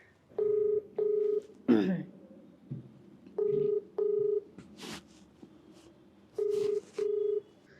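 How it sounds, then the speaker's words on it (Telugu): Telephone number being dialed as pairs of short, clear keypad tones repeat at a steady pace, with a voice speaking briefly between the groups of beeps. "మీరు ఓకే అంటే ఒకసారి కాల్ చేస్తాను."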